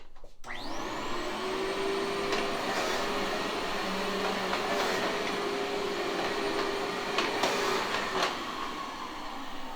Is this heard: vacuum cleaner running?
yes